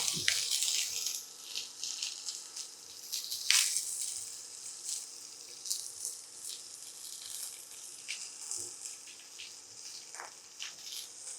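Mustard seeds, cumin, onion and green chilli fry in oil for upma, giving a soft, steady sizzle with occasional sharper crackles and pops, heard close but at low volume with no talking.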